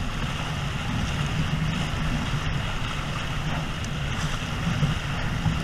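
Steady wind roars over a Squirt trimaran sailing at about 5 knots almost directly into a northerly east wind, with a constant rush of air and water noise and no voices.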